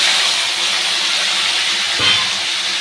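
Taro and potato frying in oil in a pan, a loud, continuous close hiss of sizzling that holds evenly throughout, with a brief soft knock near the end.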